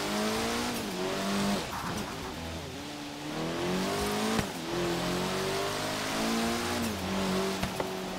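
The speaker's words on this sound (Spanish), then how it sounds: "Zumba bastante este Evo" Mitsubishi Evo engine buzzing steadily while driving through a city in Forza Horizon 3, revs rising and falling with gear shifts, loud and continuous with no talk.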